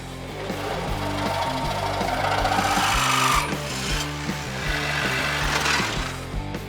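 Power tools cut into a 1928 truck in a garage, loud and close, with a rapid, regular chatter of impacts and grinding that swells and fades over a few seconds.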